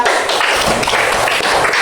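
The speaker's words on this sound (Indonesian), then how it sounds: "beri tepuk tangan untuk kita" A group in a classroom lesson claps together in a short, dense burst of applause that stays loud and even throughout.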